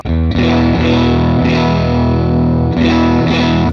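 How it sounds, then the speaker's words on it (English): Distorted electric guitar through a Vox AC15 amp model on a Fractal processor rings out sustained chords in a few loud strums, close and with no talking. "Like that's just like a Vox sound right there."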